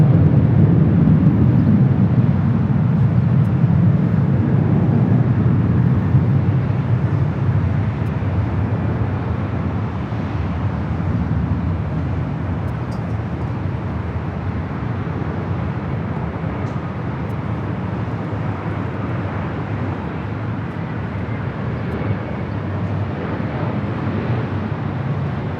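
A Boeing 787 heavy landing on runway 24 right at LAX in gusty, turbulent wind: a loud, deep jet roar at the start that slowly eases into a steady, lower rumble.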